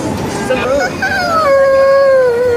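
A dog howls with long, wavering, rising and falling tones, close and fairly loud, with a few yips at the start.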